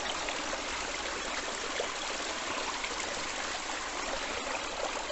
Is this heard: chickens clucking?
no